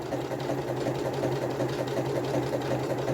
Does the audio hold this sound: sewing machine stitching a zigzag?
yes